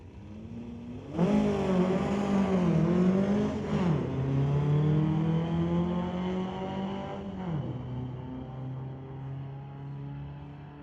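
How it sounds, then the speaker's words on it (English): Drag race launch between a Volkswagen Beetle and a Volkswagen Golf R at a raceway, engines roaring hard off the line and climbing through gear changes before fading steadily into the distance. "Volkswagen Beetle versus Volkswagen Golf R."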